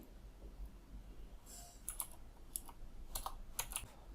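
Quiet computer keyboard typing while writing a MongoDB update query. After a near-silent start, short bursts of crisp key clicks arrive in small groups, close by and without any speech.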